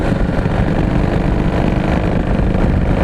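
A 2017 Harley-Davidson Heritage engine pulls under throttle, a loud, close, continuous rumbling drone with steady low-end pulsing and no talk over it.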